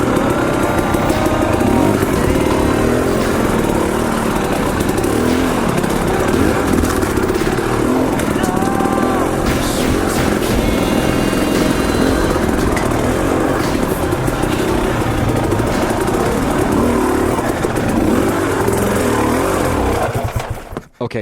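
A KTM 250 XC two-stroke dirt bike on a rough, technical trail, its engine loud and close, revving and bogging continuously throughout before cutting out abruptly at the end.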